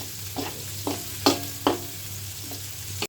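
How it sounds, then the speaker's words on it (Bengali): Turmeric goes into onions frying in a pan for a Bengali shanti greens and prawn fry. A spoon stirs and scrapes in several distinct strokes over a steady background sizzle, heard close with no talk. "পেঁয়াজটা ভাজা হয়ে গেছে, আমি এখন হলুদ দিয়ে দিচ্ছি।"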